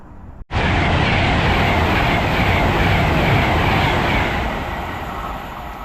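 After a sudden brief gap, a loud passenger train passing through a station roars close by in a continuous rushing rumble and rattle, fading slightly toward the end.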